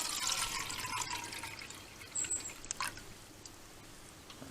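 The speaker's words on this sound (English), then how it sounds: "I'm gonna pour the water in and measure out" Water poured into a pot outdoors at a campfire, a soft splashing pour that is strongest at the start and tapers off, followed by a few faint drips and small clinks, fairly quiet.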